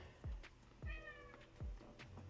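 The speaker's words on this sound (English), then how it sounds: "why is this cat so loud?" A cat meows loudly three times in close succession, each cry strong and near, with a steady faint background hum between the calls.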